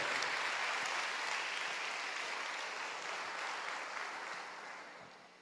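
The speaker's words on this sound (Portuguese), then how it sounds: "Dê forte esse aplauso ao Rei." A church congregation claps together in a dense, steady wash of applause that slowly fades over several seconds, with no talking.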